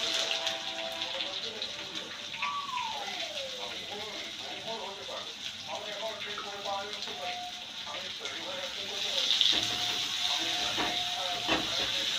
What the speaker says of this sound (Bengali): আমার পেঁয়াজটা ভাজা ভাজা হয়ে এসছে